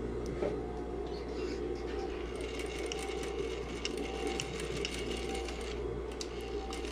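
A sewing machine stitches a shirt collar, running as a steady, close mechanical hum and rapid needle clatter that holds without a break throughout, with faint ticks riding on top.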